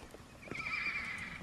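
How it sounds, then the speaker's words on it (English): A gray Missouri Fox Trotter mare lets out a single quiet neigh, a short whinny that rises and wavers for about half a second, heard at some distance over a low outdoor background. "That little gray mare right there is out of a Night Rider"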